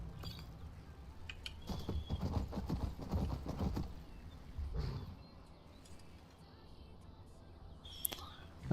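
Horse hooves clip-clopping while riding in the video game Skyrim, a quick steady trot heard under ambient game sound, loudest in the first half and then easing off.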